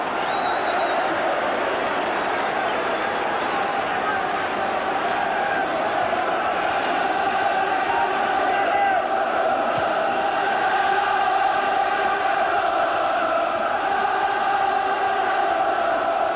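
Football crowd at Hillsborough for Chelsea against Sheffield Wednesday in a 1985 Milk Cup night match, a massive sustained roar of chanting and singing that swells and surges, heard at a distance.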